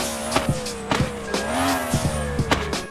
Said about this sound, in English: Sounds like a freaking NASCAR engine